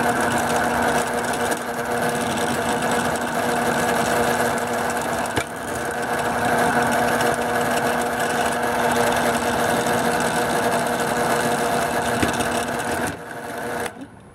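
A belt sander runs steadily as it shapes a PVC pipe Cherokee four-hole whistle, giving a continuous loud mechanical whir with constant tone throughout, cutting off abruptly near the end.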